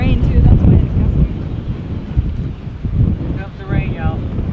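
A strong storm wind gust buffets the microphone with loud, roaring low rumble that swells and eases over several seconds as rain begins, with a person's voice briefly audible over the blast.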